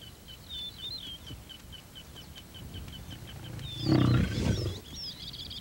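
A lion in the African wild gives a short, deep roar about two-thirds through, heard at moderate distance amid ongoing bird chirps and soft outdoor ambience.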